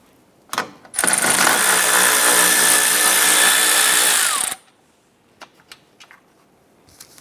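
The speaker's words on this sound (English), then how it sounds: "I'm going to go ahead and loosen and remove that bolt." Power tool with a 13mm socket loosening a bolt on a Ram 1500 headlight mounting bracket: one loud, steady whir of about three and a half seconds, followed by a few faint clicks and taps.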